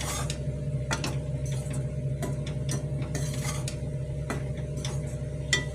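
Ingredients dry-roasting in a pan for wheat idli, with a spoon scraping and tapping the metal in a steady rhythm, close and fairly quiet.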